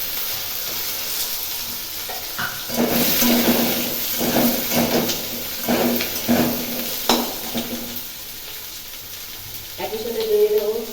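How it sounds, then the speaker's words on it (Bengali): Sliced potatoes frying in a hot pan, a steady sizzle and hiss with stirring scrapes and knocks rising and falling through the clip, a voice talking briefly underneath. "এবার আমি এর মধ্যে দেব কেটে রাখা আলু দিয়ে ভাজবো।"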